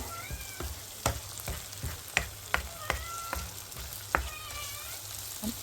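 Ginger and green chilli paste frying in a pan for biryani, a steady low sizzle broken by sharp utensil clicks and scrapes, with faint cat-like meows rising in the background.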